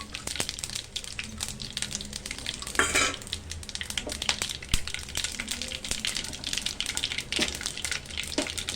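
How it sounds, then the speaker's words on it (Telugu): Cumin seeds, a piece of cinnamon, two cloves and two bay leaves fry in about two and a half spoons of hot oil for masala brinjal, giving a steady close sizzle with scattered crackles and occasional stirring clinks, with no talk. "1 టీ స్పూన్ జీలకర్ర, ఇంకా చెక్క, 2 లవంగాలు అండ్ 2 బిర్యానీ ఆకులు ఇవి వేసేసుకుని,"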